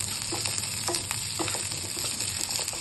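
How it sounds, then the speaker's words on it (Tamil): Onions and chana dal sautéing in oil in a pan for mint chutney, a steady close sizzle with a few soft stirring knocks, no voices. "நல்லா வதக்கி வச்சுக்கலாம்."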